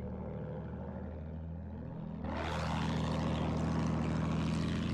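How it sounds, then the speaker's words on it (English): A propeller attack plane in the video game Battlefield 1 roars overhead, its engine swelling suddenly midway into a loud, broad rush over a steady low drone, with a falling engine tone as it passes. "There's an attack plane as well."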